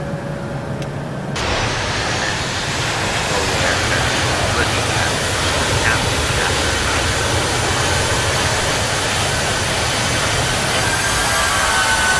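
Airbus A319 engines spool up to climb thrust in the FSX flight simulator, a loud, steady broadband roar that starts abruptly after a brief quieter moment and holds constant throughout.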